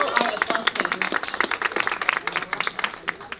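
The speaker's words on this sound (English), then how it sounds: "We want to give you a big round of applause." Audience at a summer music recital applauds the parents, many hands clapping in a dense, uneven patter that carries on steadily, fairly close, with no talk over it.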